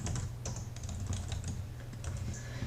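Someone types a comment on a computer keyboard with steady, rapid keystrokes. The tapping is continuous and close, over a low background hum, with no one talking.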